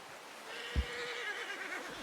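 A horse gives a single close, moderately loud neigh with a shrill, quavering whinny lasting over a second, with a soft thud near the start and a faint outdoor background.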